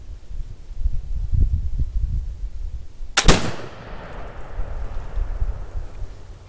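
A flintlock rifle loaded with 45 grains of powder and 60 grains of 7.5 birdshot fires one loud outdoor blast with a long rumbling decay, preceded by low wind noise.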